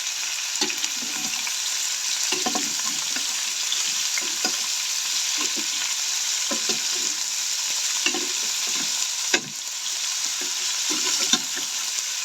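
String beans being stirred and sautéed in a pan: a steady sizzle of frying throughout, with repeated scraping stirs in an irregular rhythm, close and alone.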